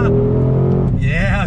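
The engine of a 2020 Ford Shelby GT500 revs on throttle in second gear, a loud, close growl that climbs and wavers while someone talks over it.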